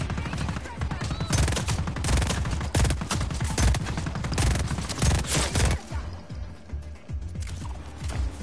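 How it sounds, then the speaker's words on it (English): Rapid gunfire in Just Cause 4 combat, with dense, loud bursts of shots and mechanical clatter through most of the stretch. Toward the end the firing thins to sparser, quieter shots. "Man's shooting me with a fucking shotgun from that far"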